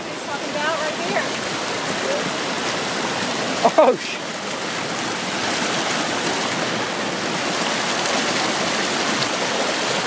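Creek water rushing steadily outdoors, a broad continuous wash that fills the whole stretch, with a brief exclamation from a voice near the middle.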